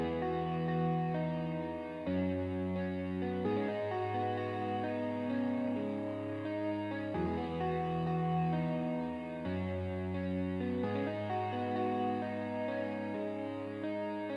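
A sustained guitar melody drenched in echo, chorus and distortion, layered over steady chords with a washy, reverberant tail throughout.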